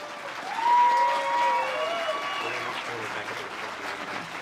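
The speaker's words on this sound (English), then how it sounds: "Let's give all of our amazing students a well-deserved round of applause." A graduation celebration audience applauds students, the clapping swelling early then settling into a steady moderate wash, with a few tonal whistles or voices mixed in.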